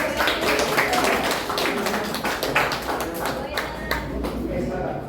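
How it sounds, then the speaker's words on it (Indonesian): A group claps together in a dense burst of hand claps lasting several seconds, fairly close and loud, with voices mixed in. "Beri tepuk tangan dulu nih."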